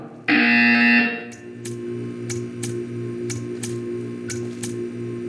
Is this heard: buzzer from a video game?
yes